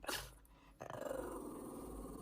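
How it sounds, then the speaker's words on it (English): A dog lets out a sharp yip, then settles into a low, rumbling growl that continues steadily, close by and fairly quiet. "Is that who you're barking at?"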